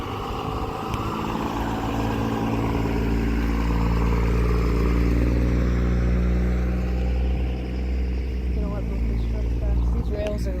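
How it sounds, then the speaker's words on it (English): A truck rumbles steadily past at an abandoned, rusty railroad crossing on Apple and High Streets in White Heath, Illinois, its engine drone loud and close throughout, with faint higher tones near the end. "I'm gonna let this truck pass."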